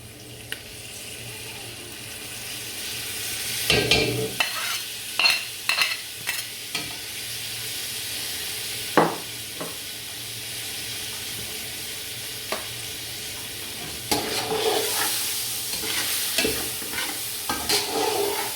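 Tomatoes and green chilies fry in a pan with a steady low sizzle, overlaid by a cluster of clattering stirring scrapes early on and another burst of stirring toward the end, with no voices.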